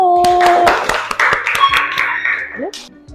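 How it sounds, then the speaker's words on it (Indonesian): Students in a classroom clap for group 1 in a quick burst of close, uneven handclaps that thin out to scattered claps, with voices speaking over them. "Sekali lagi tepuk tangan untuk kelompok 1"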